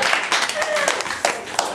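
Scattered clapping from a small group on a game show, brisk and uneven, with voices mixed in.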